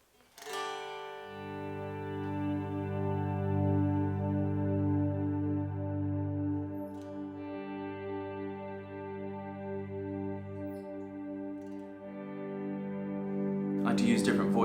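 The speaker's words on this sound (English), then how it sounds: "I have a reverb with a really long tail on it in the effects loop through the specular reverb." Electric guitar notes swell in slowly and sustain as layered harmonic chords, washed through a long-tail reverb in an amp's effects loop, playing alone at moderate level with a louder swell near the end.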